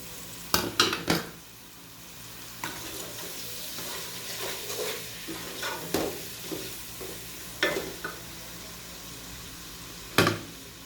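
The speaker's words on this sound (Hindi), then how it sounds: "अब हम टमाटर डाल देंगे।" Tomatoes cooking with chicken in a pan on the stove, a soft steady sizzle broken by several sharp clanks and scrapes of a spoon against the pan, close and clear with no talking.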